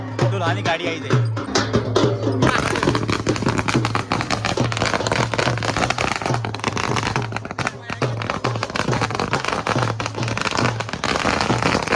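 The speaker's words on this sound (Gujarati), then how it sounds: "આ તો ટેટા કરી દેવાના છે" Firecrackers burst in a dense, crackling barrage at a Thakor family wedding, with rapid pops that pile up loudly and keep going, and voices are heard beneath the clatter.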